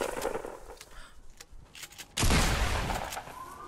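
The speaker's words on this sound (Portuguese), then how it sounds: "eu já tô aproveitando e dando, dando um tiro de shotgun aqui nos bichos." A burst of video game shotgun fire with several sharp shots, then a loud heavy blast that rings out and slowly fades, close and punchy.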